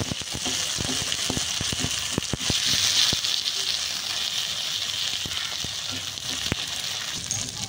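Stuffed bread fries in a little oil on a tawa, giving a soft, steady sizzle with scattered sharp pops and clicks of crackling oil throughout.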